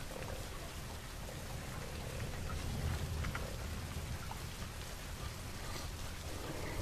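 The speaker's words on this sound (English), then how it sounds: "Yes, the rain, perfect moment." Rain falls in the zoo-management video game Planet Zoo, a soft, continuous hiss of drops on surfaces with faint low rumbling beneath and no voices.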